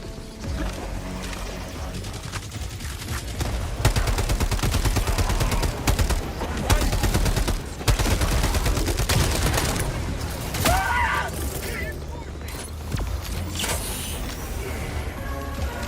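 Assault rifle fire in Helldivers 2 during a chaotic battle, dense bursts of gunshots and mechanical clatter running continuously for the full stretch, loud and layered with other combat noise.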